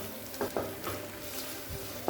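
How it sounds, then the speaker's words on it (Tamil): Spices with garam masala sautéing in a pan for egg curry, a soft steady sizzle with a few light stirring scrapes, close and fairly quiet. "இப்போ எல்லாத்தையும் சேர்த்துட்டு 1 நிமிஷம் வரைக்கும் நல்லா வதக்கிக்கலாங்க"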